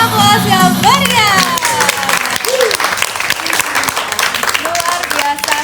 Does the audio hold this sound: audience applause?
yes